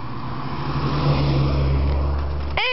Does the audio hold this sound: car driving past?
yes